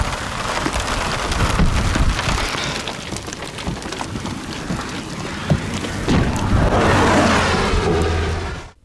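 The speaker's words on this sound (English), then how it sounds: "God dang this rain." Heavy rain pours during a New Mexico storm, a dense, continuous hiss of drops drumming on surfaces with occasional sharp spatters and low rumbles, loud and close throughout.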